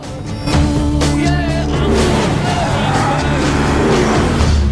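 Ford GT40 race car engines from Le Mans '66, loud revving roars with shifting pitch and passing engine sweeps, mixed with film sound and voices.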